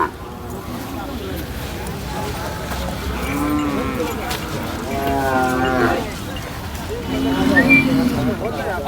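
Several Khillar cows moo in drawn-out, low calls at the busy Sangola cattle market, with people talking in the background throughout.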